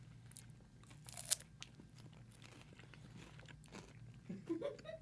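Crunchy candy bar with a soft nougat middle being chewed up close, crisp crunches and bites over a steady low background hum, with a few brief rustles.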